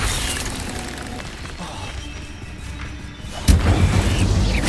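Spell-casting blasts in Hogwarts Legacy, a low rumbling combat bed that drops briefly before a sudden loud boom and crash near the end.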